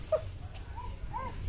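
A puppy lets out a few soft, high whimpers and whines, with a short sharp yelp at the start and thin rising cries later, close by over quiet room noise.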